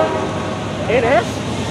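A southbound Norfolk Southern loaded coal train rumbles past close by, a steady loud roar of rolling cars with a brief wavering whine partway through, heavy and continuous throughout.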